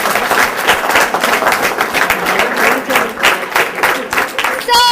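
A college audience gives loud, dense applause after a student's dance performance, with steady clapping throughout and voices mixed in, and a few whistles or cheers near the end.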